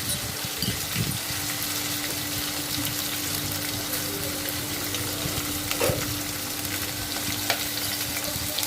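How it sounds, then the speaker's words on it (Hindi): Green chillies with ginger and ajwain frying in hot oil, a continuous close crackling sizzle with occasional stirring clinks, no voices. "तो पहले मैं हरी मिर्च को अच्छे से पका लेती हूँ"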